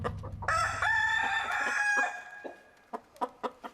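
A rooster gives one long, loud crow, and chickens cluck in short, sharp bursts before and after it, all close by.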